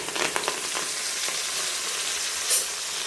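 Fresh backyard curry leaves hit hot oil and sizzle loudly, a dense crackling hiss with several sharp spits early on and a brief burst of spattering toward the end, no voices.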